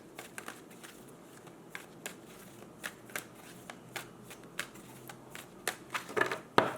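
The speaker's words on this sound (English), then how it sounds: "Do one more shuffle." Tarot cards are shuffled in quick, crisp riffles and taps, a series of soft snapping bursts ending in a louder flurry; close and fairly quiet.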